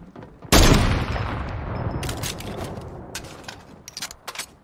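Gunfire in a shooting video game: a sudden loud blast followed by a decaying rumble, then a string of sharp, rapid shots, close and prominent, with no talk over it.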